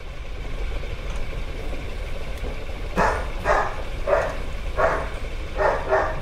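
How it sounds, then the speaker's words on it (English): Dogs barking at a distance, a run of five or six evenly spaced barks over a steady low hum, no one talking. "My dog's head snapped up when she heard the barking."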